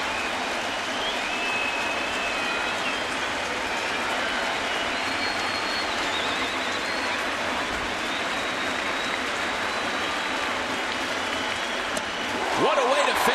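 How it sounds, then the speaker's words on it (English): Baseball stadium crowd on its feet cheering for pitcher Ivan Nova, a broad, sustained wall of applause and shouting filling the whole stretch, with a commentator's voice joining near the end. "Crowd on its feet and supportive of Ivan Nova."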